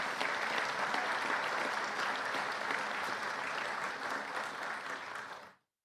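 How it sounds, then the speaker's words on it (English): Attendees at a police promotions ceremony give a round of applause, steady, fairly dense clapping heard from a moderate distance that continues evenly before stopping abruptly. "Let's give them all a round of applause."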